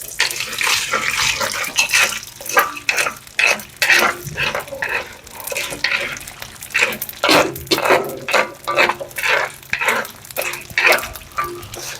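Edible gum (gond) puffs and fries in desi ghee for panjiri, stirred in a steady rhythm of loud scraping, bubbling strokes that rise and fall close by.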